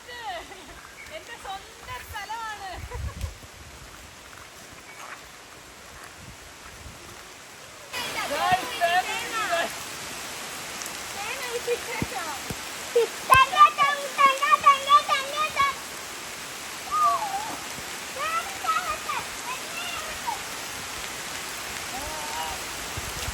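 Steady rain falling outdoors, a continuous broadband hiss that swells louder partway through, with children and adults talking and shouting over it.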